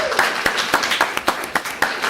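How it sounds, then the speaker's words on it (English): Clapping from attendees at a Bastrop, Louisiana city council meeting in 2017: a modest group's claps land in a loose, fairly regular rhythm, close and moderately loud in the meeting room. "Let's give him a round of applause."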